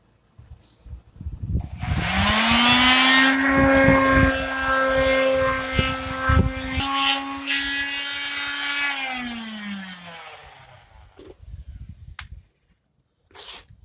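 A power sander fitted with 220 grit sandpaper works over a wooden desk, its motor whining in a steady, loud drone from about two seconds in, then winding down near the end, followed by a few scattered scrapes.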